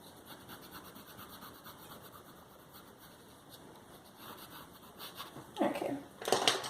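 White colored pencil blending and burnishing over paper, a soft close scratchy rubbing in short strokes that grows louder and denser toward the end, with no talk.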